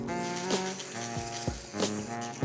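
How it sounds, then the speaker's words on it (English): Edible shimmer spray hisses onto a no-bake white chocolate and gingerbread cheesecake in a few short bursts, soft and close, over steady background music. "We are going to start by adding this shimmer spray."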